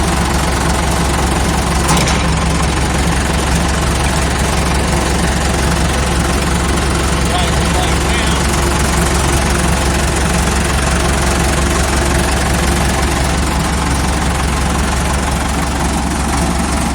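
Deutz 6207 tractor with an F4L912 diesel engine idling, a loud, steady low rumble with a faint knock running throughout and no talk.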